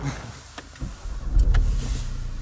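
A Ford car starts off, with a few interior clicks and thumps followed by a low engine rumble rising and settling as it begins moving, close and steady, no talking.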